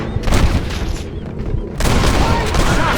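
Gunfire in the Red Dead Redemption video game, a burst of loud overlapping shots and booms with a rattling fusillade that drops briefly and then surges back, close and dense.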